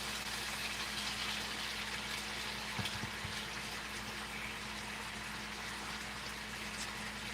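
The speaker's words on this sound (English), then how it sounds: "Let me pour a little bit of this" Liquid is poured into a pan of cooking Korean BBQ short ribs (galbi), a steady hissing, bubbling wash of sound with a brief splash partway through.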